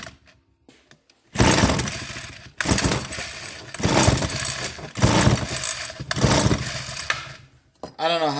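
Homelite hedge trimmer being started, several loud repeated bursts of pull-start cranking, each a rough rasping whir lasting about a second, close by with short gaps between pulls; a voice is heard at the end.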